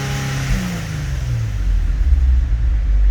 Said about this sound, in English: Let's rev it some more.